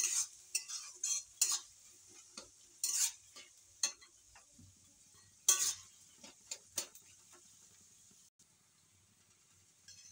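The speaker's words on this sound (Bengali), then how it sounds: "তো ওই তেলে আমি আবার পেঁয়াজ দিলাম। পেঁয়াজটা আবার একটু ভালো করে ভেজে নেব।" Onions fry in oil for chicken biryani while being stirred, giving a run of scraping, clinking utensil strokes over a soft sizzle, the stirring coming in uneven bursts and fading toward the end.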